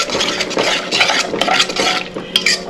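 A spoon scrapes and stirs through vegetables and water in a pan, close up, in quick uneven strokes with light clinks and a soft sizzle underneath.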